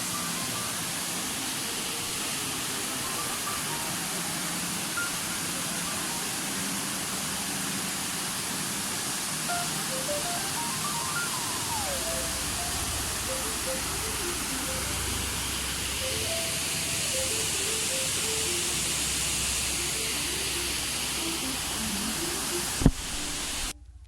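Dingmans Falls in Pennsylvania roars as a steady, dense rush of falling water, constant and loud for the whole stretch, with faint bird calls above it.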